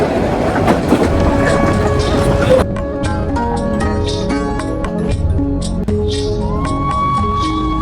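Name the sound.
passenger train running on tracks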